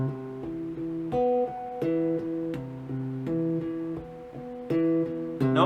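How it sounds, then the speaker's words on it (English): Guitar chord played with a thumping technique, the thumb driving alternating down and up strokes in a steady rhythmic pattern, close and clear with percussive thumps between ringing notes. "You're basically going to be doing downstrokes and upstrokes throughout this entire chord."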